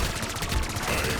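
A boss fires rapid bursts of laser shots in a Black Ops 6 Zombies match, making a dense, continuous barrage of loud, crackling gunfire with steady repeated pulses.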